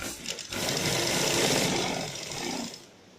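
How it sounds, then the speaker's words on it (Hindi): An electric sewing machine runs in one continuous whirring burst while stitching a designer neckline on fabric, close and steady, then slows and stops near the end. "अब हम यहाँ से गले को स्टिच करना शुरू करेंगे।"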